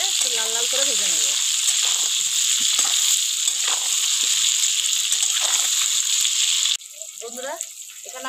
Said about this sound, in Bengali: এই পটলটা আমি খুব ভালোভাবে একটু লাল লাল করে ভেজে নেব।